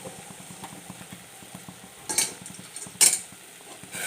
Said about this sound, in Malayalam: ഇനി ഇതാ തിളച്ചുകൊണ്ടിരിക്കുന്ന വെള്ളം ഒഴിച്ചു കൊടുക്കാം